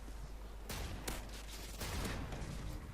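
Gunfire in Call of Duty Modern Warfare 2, several sharp shots cutting through a steady loud background rumble of game noise, with no voices.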